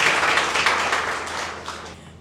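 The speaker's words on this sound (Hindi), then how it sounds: "जोरदार तालियों से स्वागत कीजिए श्वेता" An audience claps warmly to welcome a speaker at a get-together, a dense and even round of applause that holds steady and then fades away near the end.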